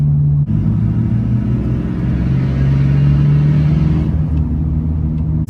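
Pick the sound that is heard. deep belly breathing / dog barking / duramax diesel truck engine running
duramax diesel truck engine running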